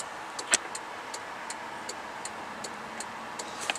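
An electronic turn signal flasher fitted for LED bulbs clicks in a slow, even rhythm, soft and close, with faint engine and road noise beneath and no talking.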